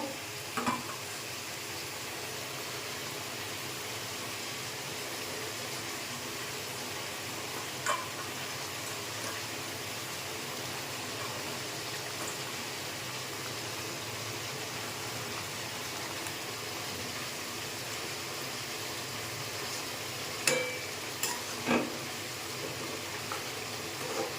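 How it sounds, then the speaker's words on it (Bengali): Curry at a rolling boil in a home kitchen, with pieces of fish going into it, makes a steady bubbling sizzle for a long stretch, broken by a few sharp clinks and splashes near the end. "ঝোল ফুটে গেছে, এখানে মাছগুলো দেব।"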